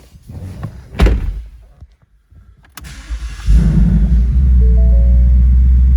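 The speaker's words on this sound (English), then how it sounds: "we'll fire this one up" A 2019 Ford Mustang GT California Special with active exhaust: a door thuds shut, then the engine cranks and catches into a loud, deep, steady idle rumble close by.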